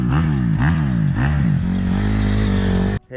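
Small motor fitted to a Kmart bicycle revving at partial throttle, a close, loud buzzing engine whose pitch rises and dips in several quick surges before settling into a steady drone and cutting off abruptly.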